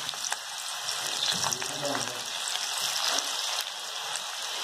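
Okra (bhindi) pieces fry in hot oil with a continuous bright sizzle and crackle, close up, while a person talks softly underneath.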